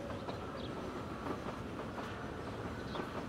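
Trains running in the game Transport Fever, a steady dense rolling rumble of rail cars with faint clicking wheel beats, continuous and even in loudness throughout.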